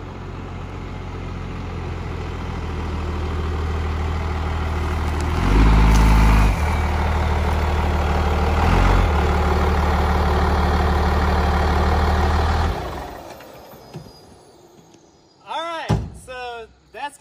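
An old Dodge truck on woodland trails, its engine droning steadily with a deep low rumble, a couple of heavy thumps mid-way, then the engine cuts out and a few clanks and rattles follow, with no talking.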